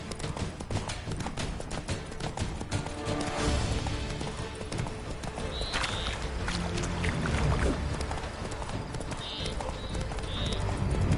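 Roach, a horse in The Witcher 3: Blood and Wine, trots with a steady, rhythmic clip-clop of hooves close by over a continuous ambient backdrop, with a brief whinny near the end.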